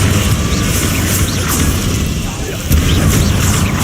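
Confringo fire spell blasts in Hogwarts Legacy combat, dense booming explosions with a fresh heavy burst near the end, loud and rumbling under game voices.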